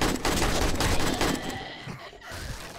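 Rapid, dense gunfire from a Shotgun Messiah loadout in the survival game 7 Days to Die, loud and continuous for most of the stretch, easing slightly toward the end.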